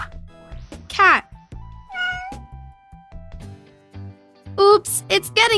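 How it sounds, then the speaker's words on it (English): Several cat meows, some short and some rising and wavering, come in separate bursts with quiet gaps between them. The last few cries are louder and more strained, close to the microphone. "Cat."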